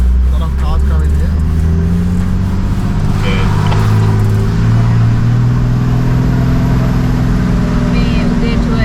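Cars driving past near Buchan Caves make a steady, loud engine rumble and tyre drone close by, with people talking over the traffic noise.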